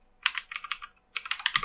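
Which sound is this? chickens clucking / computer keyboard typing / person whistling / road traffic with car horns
computer keyboard typing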